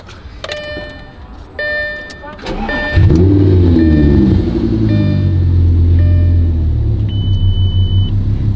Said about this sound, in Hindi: और अब मैं करूंगा ड्राइव लैम्बोर्गिनी को।